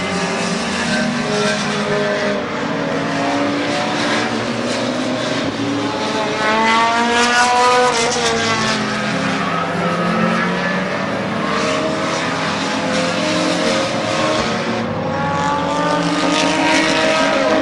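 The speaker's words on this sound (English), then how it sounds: "I'll tell you what, Chris, this is a heck of a race." Race cars roar around the Midvale Speedway oval during a night event, engines droning and revving continuously and loud, with harmonic whines rising and falling as the field passes, no talk over it.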